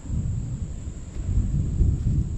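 Low thunder from an approaching storm rolls continuously in the distance, a deep steady rumble that swells slightly toward the end, with no talk over it.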